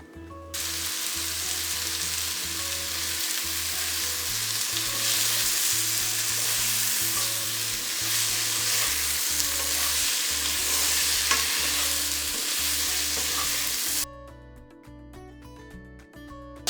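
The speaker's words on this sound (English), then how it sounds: "we will saute the veggies" Vegetables sautéing in a hot pan for a mushroom stroganoff, a steady loud sizzle with stirring scrapes throughout, ending abruptly after about fourteen seconds into quieter background.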